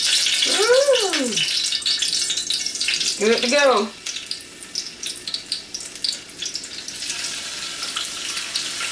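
Drops of water flicked into hot frying oil set off crackling sizzles and spitting pops, bursting irregularly after a few short spoken remarks and continuing as a busy hiss.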